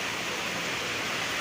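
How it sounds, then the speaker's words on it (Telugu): Steady rain falls outdoors at a home during the rainy season, a dense even hiss of drops spread evenly across the full stretch with no voices and no break. "వర్షం పడుతుంది."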